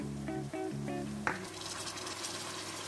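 Onion paste hits a pan of softened frying onions for a chicken and bottle gourd curry, setting off a steady close sizzle with a brief sharper burst, alone without talk.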